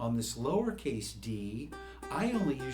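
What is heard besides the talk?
No everyday noise stands out behind the speech.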